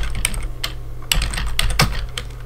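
A command is typed on a computer keyboard, with rapid, close, loud key clicks in irregular bursts and no talking.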